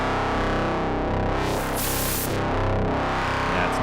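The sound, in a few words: rich dense FM synthesizer patch in FM-8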